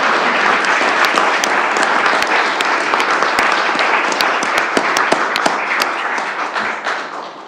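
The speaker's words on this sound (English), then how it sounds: "Extra clap on that one." Audience applause at a county board meeting honoring a long-serving public safety dispatcher, steady room-filling clapping with a few sharp, close claps standing out, tapering off at the end.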